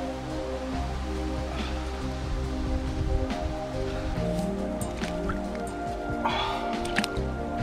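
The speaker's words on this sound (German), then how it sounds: "habe ich mir überlegt, dass ich jetzt mal ganz kurz in den Bach springen werde, um mich einfach wenigstens ein bisschen frisch zu machen" Close splashing and dripping water as someone jumps into a cold forest stream in the Spessart, with wet sloshing and scattered drips over a steady flowing-water background, no talking.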